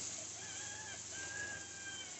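Roosters in a backyard poultry pen on a hot July day crow in long, thin calls that sound distant and faint over steady background hiss.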